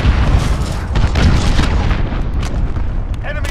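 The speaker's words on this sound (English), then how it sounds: "Enemy cruise missile incoming" A cruise missile explodes in Call of Duty: Modern Warfare, a deep rolling boom with sustained rumble and debris noise throughout, loud and heavy, with a faint crackle near the end.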